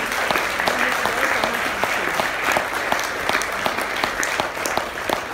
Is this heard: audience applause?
yes